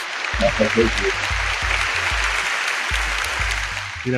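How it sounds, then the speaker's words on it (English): Applause for a podcast guest, a steady, even wash of clapping running throughout, with a low musical tone sounding in repeated phrases beneath it. "as I always like to give you your applause"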